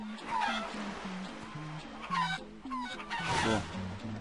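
Cartoon chicken clucking in the Crash Twinsanity video game, a run of short stepped clucks repeating steadily with brief higher squawks, close and clear over game sounds.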